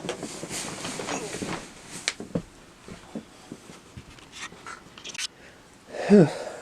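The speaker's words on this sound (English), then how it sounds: "one of the puppies had to go to the potty" A puppy pants close by indoors, with quick irregular breaths and snuffles and a louder rasping burst near the end.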